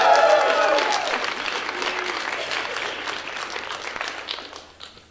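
An audience at a live team competition event bursts into loud applause and cheering, strongest at the start and gradually thinning out over several seconds.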